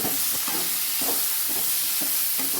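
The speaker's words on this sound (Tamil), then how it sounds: "அவிச்சு வச்ச சீனரைக்காவை ஆட் பண்ணுறோம் நல்லா வதக்கிடுங்க" Boiled bitter gourd is sautéed in a pan, an even, close sizzle with a regular rhythm of spatula scrapes and stirs roughly every half second, no one speaking.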